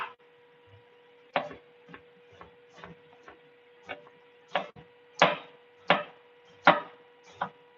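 Knife chopping food on a dual cutting board during meal prep of chicken and cabbage, a series of sharp, irregular thunks, several louder strikes toward the end, close and alone over a steady faint hum.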